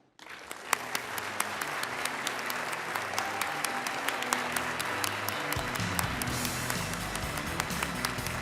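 Sustained applause from an audience at the American Academy of Periodontology annual meeting in Austin, welcoming the AAP president. Dense clapping begins abruptly and carries on steadily to the end, with no voices.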